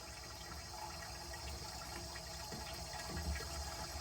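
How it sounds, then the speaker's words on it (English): Water running from a bathroom vanity faucet, a steady faint rushing hiss that continues evenly throughout without interruption. "the water seems to be flowing really good with hot or cold"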